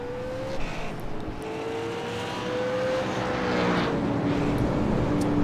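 Super late model stock car race cars, including a 77 Ford, roar around the track at night, their engine drones rising and shifting in pitch as they pass, steady and moderately distant with no talk over them.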